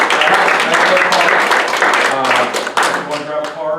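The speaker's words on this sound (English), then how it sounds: "Let's give Corey a round of applause." Audience applause at a city council town hall, dense clapping filling the room at moderate loudness, with voices overlapping the clapping throughout.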